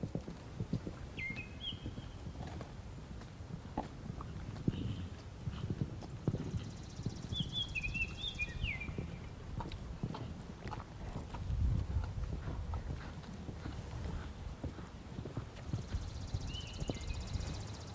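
A horse moves around during a riding clinic, with soft steady hoofbeats on arena footing and faint high bird chirps in the background over a long stretch.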